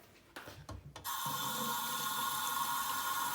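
A water tap is turned on over foam, a few soft knocks and splashes first, then a steady close rush of running water that continues to the end.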